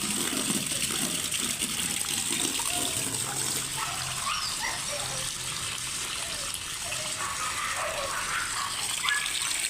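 Water pours for a rescue cat to drink, making a steady, continuous gushing splash close by with some faint background noise and no speech.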